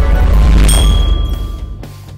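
Bright metallic bell chime struck once over a heavy low thud, ringing tones sustaining and slowly fading, loud and close with no talk.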